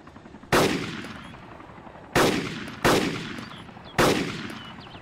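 Four loud gunshots in the DayZ mod, each a sharp crack with a long echoing tail, irregularly spaced over a few seconds with no talk.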